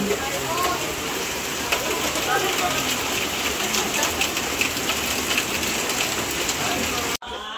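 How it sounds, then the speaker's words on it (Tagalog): Heavy rain pours steadily, a dense hiss of drops hitting surfaces all around, with faint voices mixed in. "Grabe po lakas ng ulan."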